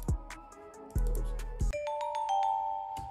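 A vibraphone and bell melody from an FL Studio dancehall beat, processed with EQ that cuts the low end and with reverb. Mallet tones ring over a few deep bass thumps, then clear, sustained bell notes linger with a soft reverberant tail.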